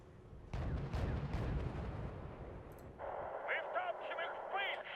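Artillery fire in Wargame: European Escalation, a deep heavy boom with rumbling aftermath at moderate distance, followed by radio chatter and game sounds while someone talks.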